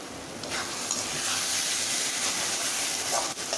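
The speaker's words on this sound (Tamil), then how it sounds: "நல்லா வதங்கிடுச்சு வெங்காயமும் தக்காளியும்." Onions and tomatoes sautéing in a pan just uncovered, putting out a loud, steady sizzle and hiss close up with no talking over it.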